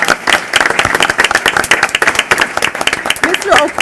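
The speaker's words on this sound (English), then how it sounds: "let's give Mr. O'Cool a round of applause." Audience at a Chicago Board of Education monthly meeting claps for a school chess club founder, a dense, loud patter of many hands running steadily throughout, with a voice speaking over it.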